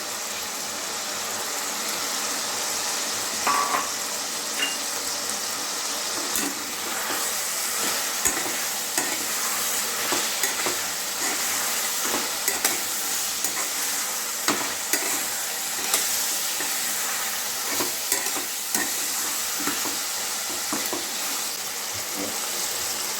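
Diced onions, about one and a half, fry in a pan for chicken curry, giving a steady close sizzle with occasional scraping stir strokes throughout.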